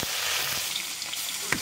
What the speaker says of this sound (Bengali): তেল গরম আছে লাও মাছ দিয়ে দে